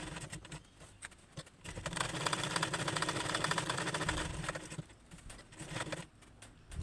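A sewing machine runs in bursts while stitching a blouse, a fast rattling whir that swells through the middle and then tapers off. It is fairly quiet and close, with no voices.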